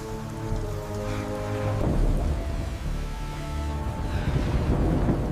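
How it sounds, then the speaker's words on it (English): A storm squall sweeps through with heavy rain hissing steadily and deep thunder rumbling low throughout, loud and enveloping with a tonal hum beneath in the first half. "Jun, Maya, we have a squall front hitting in 10."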